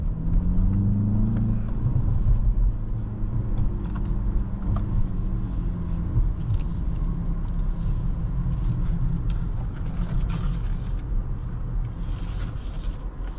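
A 2024 BMW X1 M35i on the road, heard from inside the cabin as a steady, loud engine and road rumble with slight rises in revs throughout.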